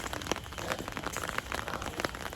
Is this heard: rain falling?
yes